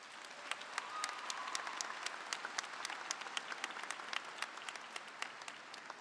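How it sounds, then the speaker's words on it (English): Graduating seniors and audience at the 2023 Loveland High School graduation ceremony applaud the school staff, a steady, fairly distant wash of many hands clapping throughout. "Seniors, let's give them a round of applause."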